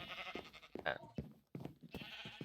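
Sheep in Minecraft bleating a few times in short wavering calls, fairly faint, with some light background speech.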